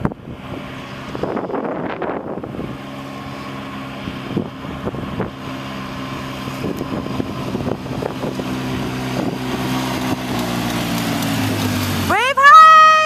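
Four-wheeler ATV engine droning steadily throughout as riders pass, with outdoor wind noise and people talking over it, ending in a brief rise in pitch.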